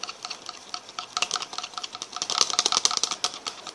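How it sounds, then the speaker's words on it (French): A gel sample from a sanitary pad is stirred vigorously in a jar, giving rapid, close, clicking and scraping strokes in a dense irregular rhythm that grows more intense toward the end, with no talking. "Je remue. Je remue fortement."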